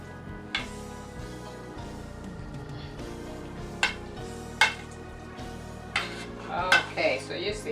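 A metal spoon scrapes and clinks against a pan while rubbing powdered seasoning into taco meat, with soft scraping strokes broken by several sharp clanks.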